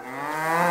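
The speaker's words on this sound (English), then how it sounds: "That's your cow. Where's your calf at?" An Angus cow on a farm gives a single short, rising moo, close and fairly clear, with no talking over it.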